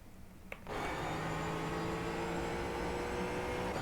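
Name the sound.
Mustang car engine under throttle, from a racing video game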